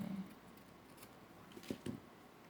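Scissors snipping paper for a collage: two quick, close cuts come near the end of a quiet stretch, after a faint rustle at the start.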